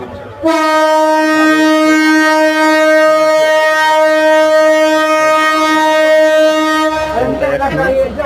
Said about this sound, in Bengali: ছেড়ে দিচ্ছে। ট্রেনটা ঢাকার উদ্দেশ্যে রওনা হচ্ছে রাজশাহী রেল স্টেশন থেকে।